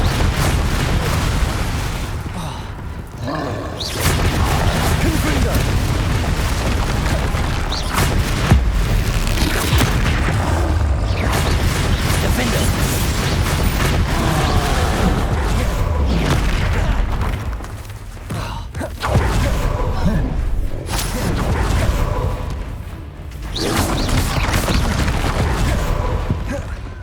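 Repeated booming Confringo blasting-spell explosions during combat in the Hogwarts Legacy game, loud heavy blasts arriving in clusters over several seconds, with brief quieter gaps between bursts.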